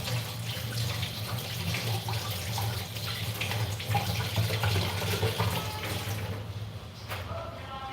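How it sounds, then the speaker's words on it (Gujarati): A potato is washed by hand under a running kitchen tap, with a steady close splash of flowing water and some rubbing underneath that continues throughout and eases off near the end. "તો આપણે એક બટેટું લઈ લીધું પેલાને ધોઈ લઈએ"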